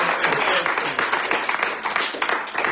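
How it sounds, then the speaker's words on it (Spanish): Church congregation applauding for the Lord, a dense wash of many hands clapping steadily throughout, mixed with crowd voices and cheering. "Denle un aplauso a ese Señor"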